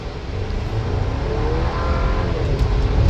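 A 2024 Chevy Traverse with a turbocharged four-cylinder and 8-speed automatic accelerating hard from a standstill, a steady loud engine drone with rising tone under heavy road and wind roar, no talking.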